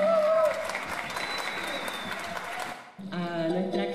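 An audience at a folk-music album presentation claps briefly and fades, then an instrumental tone with clear musical pitches enters, with crowd noise and some voice-like sounds mixed in.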